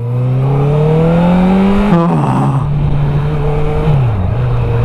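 A Honda CB650F motorcycle with an IXIL SX1 exhaust revs loud and close, its engine pitch climbing, briefly dropping, then holding and dipping again as the throttle is worked.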